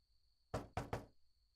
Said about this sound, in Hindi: हयात सुनो, दरवाजा खोलो।